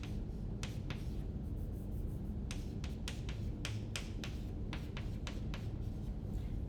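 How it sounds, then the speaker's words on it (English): Pen strokes scratch across paper while a chemistry structure is drawn by hand, a series of short separate scrapes of uneven length over a faint steady background hum. "I draw out one of my ester molecules."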